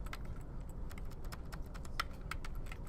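Steady rapid typing on a computer keyboard, with quick clicking keystrokes in a continuous irregular rhythm, close and fairly quiet, with no one talking.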